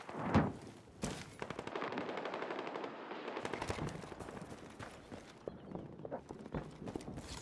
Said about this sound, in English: Just a mortar.